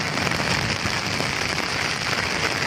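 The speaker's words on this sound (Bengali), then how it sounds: "প্রচুর পরিমাণ বৃষ্টি হইতেছে।" Heavy rain pours down around a rooftop in a Bangladeshi village, a dense, unbroken hiss of drops that stays at one steady, moderately loud level throughout, with no voices.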